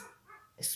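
A dog gives a brief single bark, a short sharp yelp rising near the end of a quiet moment indoors, with no talk over it.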